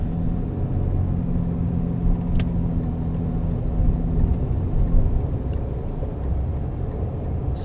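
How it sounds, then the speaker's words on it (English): A car drives in slow highway traffic, heard as a steady, loud low engine and road rumble from inside the vehicle, with a few faint ticks on top. Nobody speaks. "We've got a bit of a traffic jam on the highway here."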